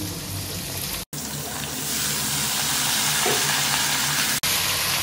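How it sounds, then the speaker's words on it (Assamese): Steady, loud sizzling as ridge gourd and potatoes fry in a pan, close up, with faint stirring and brief cuts in the sound. "জিকা আৰু আলুখিনি অলপ ভালদৰে ভাজি লওঁ"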